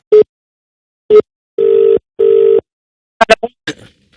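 A telephone dials a call: two short beeps, then two longer steady tones, followed by a few quick clicks and blips, all loud and clear with no talking.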